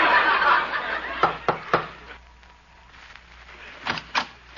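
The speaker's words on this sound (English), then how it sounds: "I'll knock on the door." Several sharp knocks on a door as a 1940s radio sound effect, a spaced pair of raps followed by another pair a moment later, fairly close against a quiet background.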